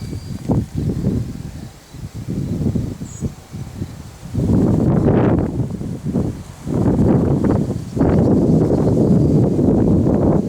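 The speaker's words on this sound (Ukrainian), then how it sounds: "Вітер досить сильний." Strong wind buffets the microphone in loud, rumbling gusts that come and go, with rustling and faint insect chirps in the lulls.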